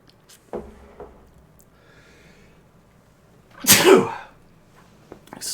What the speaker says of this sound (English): It's gonna be a multiple sneeze kind of morning, I think.